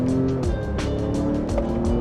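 A car accelerates hard from a stop, its engine note climbing and dropping through a quick gear shift. Loud and close from inside the cabin, with no talk.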